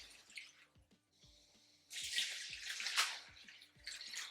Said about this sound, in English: Add some water to cover the cabbage.